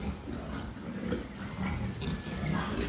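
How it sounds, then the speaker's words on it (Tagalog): Pigs on a farm grunt and snuffle close by in a dense, steady jumble, with a constant wash of background noise and no clear pauses. "Tagal kong hindi nakita itong mga alaga namin baboy."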